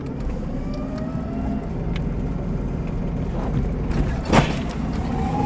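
A car converted to electric drive accelerates briskly in first gear, giving a steady close rumble of road and cabin noise with a faint rising whine and a brief louder bump near the end.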